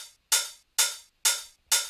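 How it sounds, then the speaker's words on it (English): Hi-hat sample from a music track breakdown, struck four times at an even pace. Each hit is bright and close with a noisy sizzle that decays quickly before the next strike, and it plays alone. "Next we have hi-hat 2, which it sounds like this."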